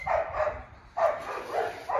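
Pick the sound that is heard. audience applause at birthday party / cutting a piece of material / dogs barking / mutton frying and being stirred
dogs barking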